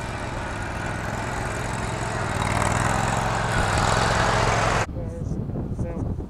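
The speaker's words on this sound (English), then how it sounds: "Here we're mowing this all down in here." A Scag lawn mower mowing grass runs loud and steady with a rough engine drone that builds slightly, then cuts off abruptly near the end, leaving faint background sounds.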